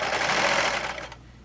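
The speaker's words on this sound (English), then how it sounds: "I'm not picking up my presser foot on my serger. I'm just letting the fabric grab a hold." A serger stitches a knit shirt sleeve with a steady, close mechanical whir that runs continuously before cutting off near the end.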